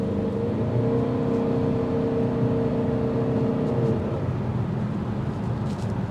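A 2023 Chevrolet Malibu LT2 with a 160-horsepower engine and CVT transmission hums steadily from inside the cabin on a test drive, with a sustained engine drone that rises slightly and then eases under broad road noise.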